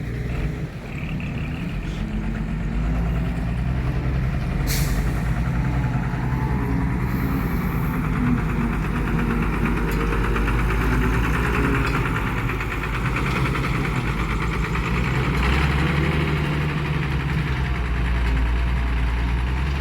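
A six-wheel truck engine runs steadily with a low, rumbling idle and knocking vibration, continuous and close for the whole stretch, with a couple of brief metallic clanks.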